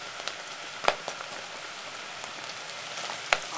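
Garlic and bacon saute in a pan with a steady, soft sizzle and a few sharper crackles and pops, with no one talking.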